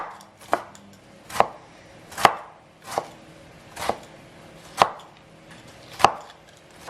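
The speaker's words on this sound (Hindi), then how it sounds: "जब तक मैं टमाटर काट लेती हूँ" A knife chops tomatoes on a board while biryani is being prepared, seven sharp, evenly spaced thuds close by with quiet gaps between them.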